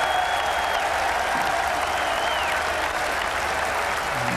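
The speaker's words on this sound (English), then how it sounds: "And the clapping turns into cheers" A cricket crowd claps steadily in a 1993 English season match, a dense, even wash of applause, fairly loud and continuous, with a faint background voice and occasional shouts.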